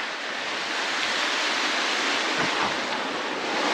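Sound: river flowing

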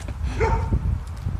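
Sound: chained dog barking in the distance

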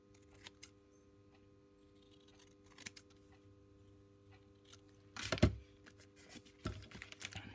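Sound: cutting off paper for book pages

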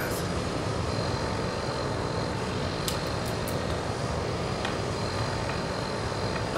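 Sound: Tucano aircraft engine during spin recovery

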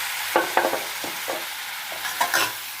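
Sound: stirring shrimp stir fry in pan

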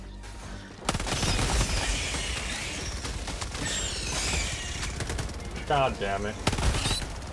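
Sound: auto sentry turret firing in the video game Helldivers 2

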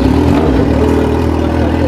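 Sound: Yamaha XJ6 motorcycle engine revving

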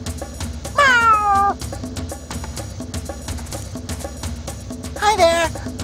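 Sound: cat meowing, from a video game

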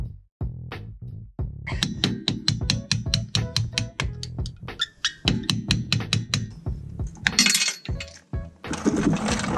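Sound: hammer tapping a screwdriver to push out a brake pad rod

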